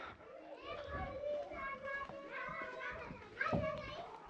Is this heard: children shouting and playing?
yes